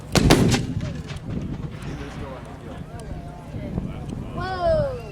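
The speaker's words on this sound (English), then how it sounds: "You can see the shells converging because we're firing at different distances" A Civil War-style mortar at a Gettysburg reenactment demonstration fires with a loud, sharp report at the start, followed by rumbling echoes and crowd noise, with voices talking near the end.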